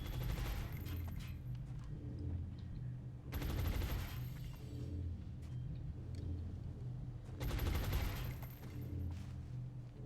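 Gunfire bursts from the XCOM Long War strategy game: three loud, sharp fusillades of shots spaced a few seconds apart over a steady droning game soundtrack.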